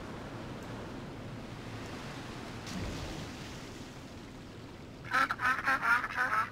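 Ducks quack in RollerCoaster Tycoon 3 as a quick run of several calls near the end, rising over a steady wash of ambient water-like noise that fills the rest.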